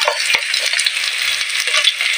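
Onion and garlic sauté in hot cooking oil for a tofu and broccoli stir fry, a loud, close, continuous sizzle with occasional stirring scrapes and no talking.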